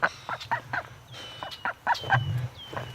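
Ducks calling in a yard, a rapid series of short nasal quacks and honks, some overlapping, at close to moderate distance over a low background hum, with no speech.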